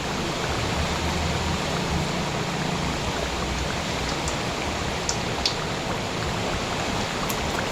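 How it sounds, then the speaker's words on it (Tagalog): Heavy rain pours down steadily in a dense, loud wash of noise, with a few faint sharper drips standing out near the end. "napakalakas po talaga ng ulan"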